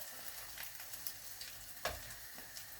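Eggs frying in a pan, a soft steady sizzle with a few sharper pops and a louder clack near the end as they are turned over, no voices.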